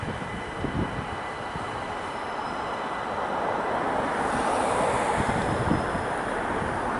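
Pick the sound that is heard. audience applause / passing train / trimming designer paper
passing train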